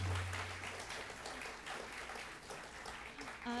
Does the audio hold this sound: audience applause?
yes